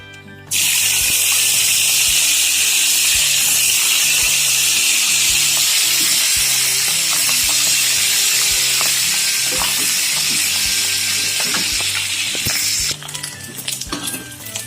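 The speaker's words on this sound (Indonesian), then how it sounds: "Terus kita goreng ikan asinnya lagi." Loud, continuous sizzling of salted fish frying in hot oil fills the clip, with occasional crackles and utensil clinks before it briefly settles near the end.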